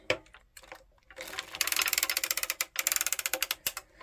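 A hand-cranked circular sock knitting machine works stitches for a toe-up sock, its needles and cams giving a fast, rhythmic metallic clatter in rapid ticking bursts, close and loud, after a few quieter clicks.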